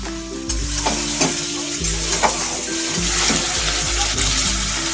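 Chicken being sautéed in a pan for a Kerala-style chicken curry, with the lid just removed: a steady, close sizzle of frying runs throughout, broken by stirring scrapes and soft utensil clinks against the pan.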